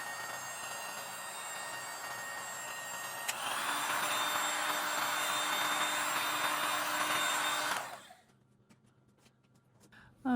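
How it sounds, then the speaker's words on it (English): A heat gun blows hot air in a steady, loud, rushing roar that holds for about five seconds before switching off abruptly, leaving a quiet room. "Or maybe I'll get my heat gun."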